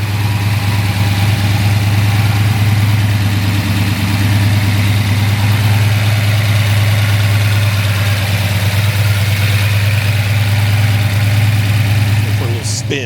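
A 1968 Chevelle SS 396 with a roller cam idling, a loud, steady low rumble that stays close and constant for about thirteen seconds, with a faint click near the end.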